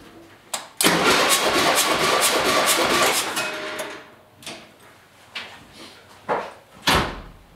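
A 1977 VW van engine with a misfiring cylinder cranks and catches after a door clunk, then runs roughly for a few seconds before cutting out. Several sharp knocks follow.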